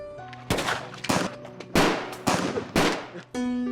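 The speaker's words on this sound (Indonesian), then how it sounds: "baku tembak pun terjadi" Several sharp gunshots crack out in irregular bursts, loud and close, with echoing tails between them.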